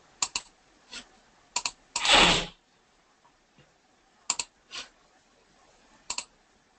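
Sparse computer clicks and keystrokes near at hand, in short separated pairs and singles, with one longer burst of rustling noise partway through, no talk.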